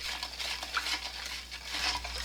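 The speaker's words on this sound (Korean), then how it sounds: "굵은 소금 소복이 올라오게 3스푼, 매실청 3스푼 넣고 소금을 녹입니다" Coarse salt and plum syrup being stirred into water for kimchi brine, soft swishing and faint grainy scraping at a quiet, close level.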